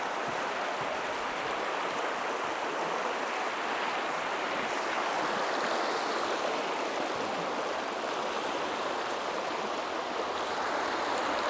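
The Miline River rushes steadily along a Canadian highway, a constant broadband roar of flowing water that stays even throughout, with no voices.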